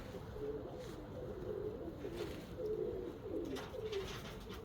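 Pigeons coo steadily in a dovecote in spring, a low rolling warble repeating in overlapping phrases from several birds at close range, with no voices.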